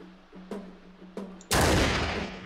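Gunfire in the video game Mount & Blade Gekokujo, two sharp distant shots followed by a loud, sustained blast that fades slowly, with no voices.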